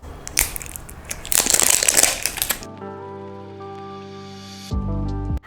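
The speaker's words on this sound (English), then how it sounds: "Let's open the packaging first." Crinkly plastic packaging of a Zudio liquid lipstick being opened up close, with sharp rustling and crackling bursts in the first half, then quieter background sound.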